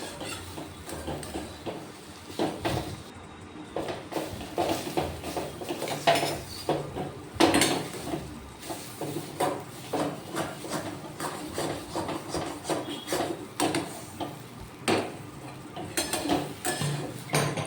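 Repeated scraping and clinking of a utensil against a pan while mixing a spiced potato dough, irregular stirring strokes with occasional sharper knocks, close up and without talk.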